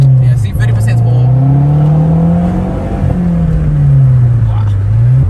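A Mazdaspeed3 pulls hard in first gear at partial throttle, its loud, close engine drone swelling and dipping in pitch as the revs climb and ease off.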